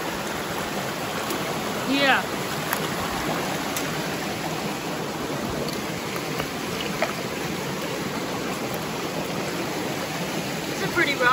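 Creek water flows steadily in a broad, continuous wash, running a little heavier than normal, with a brief spoken word over it.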